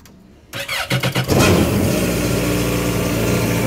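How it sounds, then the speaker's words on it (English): A personal watercraft engine cranks in a few rapid pulses, then catches and settles into a loud, steady idle close by. "We're going to start the engine."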